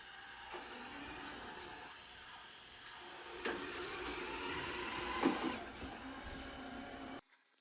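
A SwitchBot S10 robot vacuum drives back toward its charging dock, a faint, steady motor whir with a few soft bumps and clicks, ending in sudden quiet.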